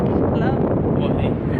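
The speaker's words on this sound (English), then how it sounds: "it's really windy" Strong wind buffets the microphone outdoors in Burnaby, Vancouver, a loud continuous roar and rumble that fills the whole short stretch.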